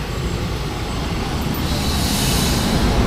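An express train in Thailand rumbles steadily alongside a station platform as it arrives, with a broad rushing roar and a faint high hiss, continuous and fairly loud, no voices.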